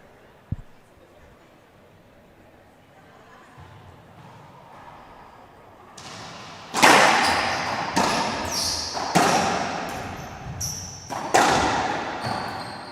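Racquetball rallied in a singles match at the 2023 World Singles and Doubles Open, quiet at first, then a run of sharp, echoing court smacks and wall bounces in the second half, some close together, with faint crowd murmur.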